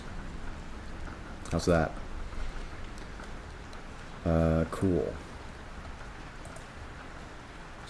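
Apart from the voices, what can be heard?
rain sounds from a rain playlist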